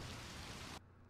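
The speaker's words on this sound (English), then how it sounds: "it's raining, but there's no cloud above, right?" Steady, dense rain falls outdoors with a broad hiss that cuts off abruptly partway through, leaving quieter background ambience.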